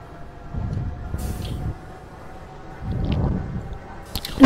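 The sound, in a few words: steam turbine spinning in Roblox Industrialist video game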